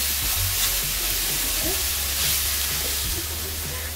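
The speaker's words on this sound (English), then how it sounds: "Next, I'm going to go in with minced garlic and cook that out for about 1 minute" Minced garlic sautés in a frying pan with a steady, close sizzle and light stirring scrapes throughout, with no talking over it.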